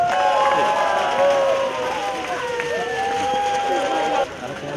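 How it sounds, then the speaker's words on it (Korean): An audience at a zoo event cheers and claps in a sustained, dense wash of crowd noise, with high children's shouts and whistles rising above it throughout. "환영의 박수와 환호성을 부탁을 드리겠습니다"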